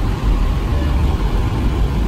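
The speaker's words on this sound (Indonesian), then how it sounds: "Disusul bis Dua Putra Mandiri belakangnya." Dua Putra Mandiri bus rumbling past at Merak port, a loud, steady low engine drone with broadband road noise throughout, close by, no talking.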